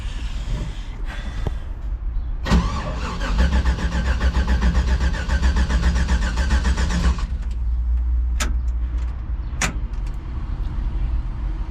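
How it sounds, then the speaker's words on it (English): A car engine cold-starts with a short crank, catches and roars at high fast idle, then settles to a steadier, quieter idle with a couple of sharp clicks afterward. "Cold start."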